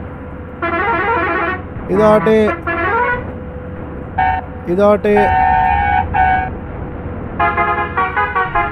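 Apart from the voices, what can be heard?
bus horns honking in the video game Bus Simulator Indonesia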